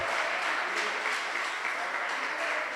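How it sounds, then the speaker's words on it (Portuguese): Continuous applause from a church congregation fills the whole stretch, a thick even roar of many clapping hands at steady loudness. "Aplauda Ele."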